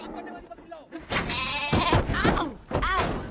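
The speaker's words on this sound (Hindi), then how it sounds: "शांत करने वाली बकरी लाओ।" A cartoon goat in an animated film gives several wavering, nasal bleats in quick succession, loud and close, mixed with voices speaking.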